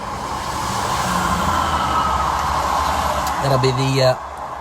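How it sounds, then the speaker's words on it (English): A train rumbles past close by as a steady roar, with a brief voice and tonal hum rising near the end. "And there's a train going past."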